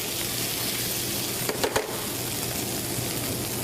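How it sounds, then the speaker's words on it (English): Healthy fried rice frying in a pan gives a steady close sizzle, with a few brief scraping stirs partway through, crisping as it dries. "We're going to cook this until the rice dries up a little bit more."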